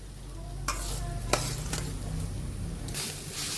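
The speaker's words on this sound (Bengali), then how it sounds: "শাকটা আমার ভাজা হয়ে গেছে" Ghatkol leaves frying in a pan, a low steady sizzle broken by several sharp spatula scrapes and stirring strokes against the pan.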